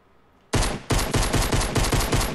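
Gunfire in the Fortnite battle royale video game, a sudden loud blast followed by a rapid string of repeated, evenly spaced shots, close and sustained with no talk.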